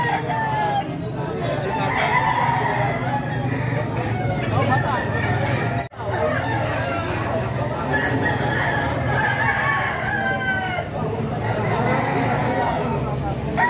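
Roosters crow repeatedly over a busy Padre Garcia, Batangas chicken market, with clucking fowl and constant crowd babble and bargaining voices filling the scene.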